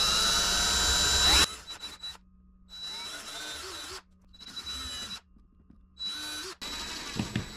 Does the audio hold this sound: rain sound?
no